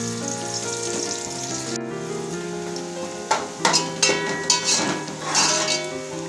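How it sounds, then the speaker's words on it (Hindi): Sliced onion rings fry in hot cooking oil with a bright, steady sizzle, then several bursts of stirring break in partway through, crackling up loudly before settling. "इसके अंदर हमने जो प्याज रखी थी काट के हमने राउंड शेप में प्याज डाल देंगे"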